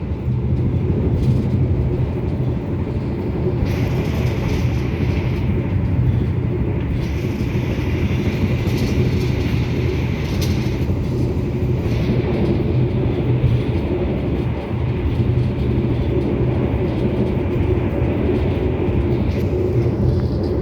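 The Argo Lawu passenger train runs on rails near Gawok station, heard from inside a carriage as a loud, steady rumble with rhythmic wheel clatter that continues throughout, with no voices.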